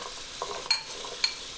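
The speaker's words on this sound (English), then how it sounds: "we're just going to kind of saute them in the butter before we move on to the next step" White onion cooking in butter in a hot pan, a soft, fairly faint sizzle with two brief scraping clinks from a spoon against the pan.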